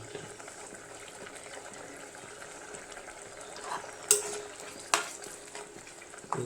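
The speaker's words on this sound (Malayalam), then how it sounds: "അരപ്പ് തിളച്ച് വരുന്നുണ്ട്" Masala paste heating toward a boil in a pan makes a low, steady simmering hiss, broken near the end by a few sharp clinks of a spoon against the vessel.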